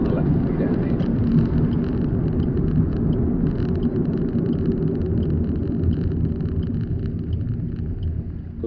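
A car engine pulls steadily under acceleration during a driving lesson, a continuous low drone heard from inside the cabin with little change in loudness.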